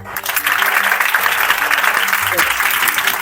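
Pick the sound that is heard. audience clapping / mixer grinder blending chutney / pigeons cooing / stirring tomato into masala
audience clapping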